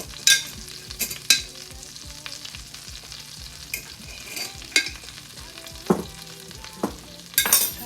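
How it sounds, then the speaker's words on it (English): A whisk works melted butter and flour in a pan for a cheese sauce, giving a steady low sizzle broken by irregular scraping clicks and taps of the whisk against the pan. "I'm just going to whisk this real quick until it thickens up"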